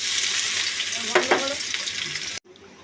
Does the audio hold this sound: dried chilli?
yes